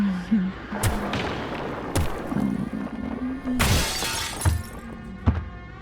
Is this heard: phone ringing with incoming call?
no